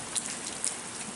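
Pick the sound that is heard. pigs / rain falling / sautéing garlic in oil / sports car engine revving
rain falling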